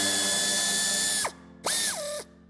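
A power tool whirs loudly up close to remove a screw behind the bumper plastic of a 2022 Citroën C5 X during a tow hitch fitting, running steadily, winding down, then a second shorter burst with rising and falling pitch.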